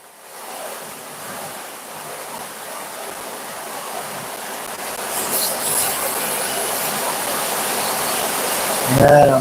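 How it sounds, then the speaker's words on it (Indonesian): Heavy rain with water pouring from a downspout, a continuous broad hiss and splash that grows slightly louder over time, with a brief louder burst near the end. "Nampaknya hujannya cukup deras, air pancuran cukup besar."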